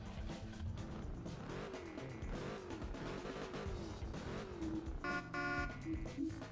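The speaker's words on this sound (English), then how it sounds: "here, start the car up" Ford GT engine starting up and revving in the Test Drive Unlimited racing game, a loud dense roar filling the whole stretch, with a sharper rise in pitch near the end and game music or effects layered in.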